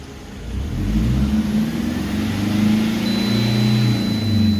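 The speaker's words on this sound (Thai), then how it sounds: "ยกตัวอย่างผมตั้งรอบไว้สามพันตรงนี้นะ พอเหยียบสามพันก็จะมีเสียงเตือน" A Toyota Vigo engine revs and holds at a steady drone, and partway through, as it reaches 3,000 RPM, a thin, high warning beep from a shift alert sounds continuously over the engine noise.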